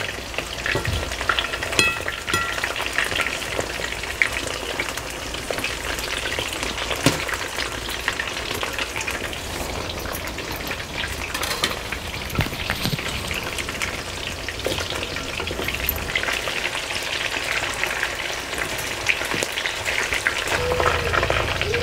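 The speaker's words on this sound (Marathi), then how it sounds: "आपण हे जास्त वेळ ठेवून तेलामध्ये छान असं हे तळून घ्यायचं" Chicken leg pieces deep-fry in hot oil, a steady close crackling sizzle with scattered pops and occasional stirring clinks, continuous throughout with no voices.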